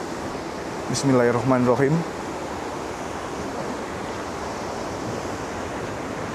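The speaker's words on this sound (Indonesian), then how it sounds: "Ombaknya deras banget." Strong surf crashing on a coastline beside a memorial plaque, a steady roar of waves and wind noise running throughout, with someone briefly speaking a short phrase near the start.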